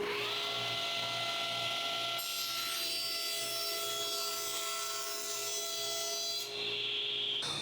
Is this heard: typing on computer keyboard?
no